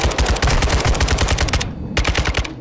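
Rapid automatic machine gun fire in the video game Modern Warfare II, loud and close, with a sustained burst of tightly spaced shots, a brief pause, then another short burst.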